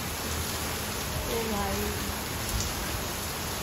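Heavy rain pours steadily during a night thunderstorm, a dense, even hiss filling the whole clip while a voice talks briefly over it.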